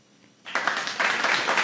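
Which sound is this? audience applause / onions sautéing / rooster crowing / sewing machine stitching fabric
audience applause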